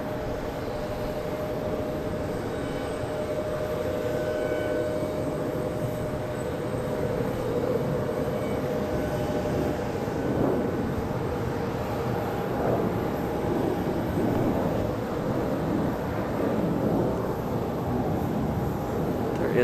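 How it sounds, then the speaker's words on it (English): A departing airliner at Charlotte Douglas International Airport on a windy day gives a steady, distant rumbling roar that holds level and slightly swells across the span, with no voices. "We've got a departure right here too."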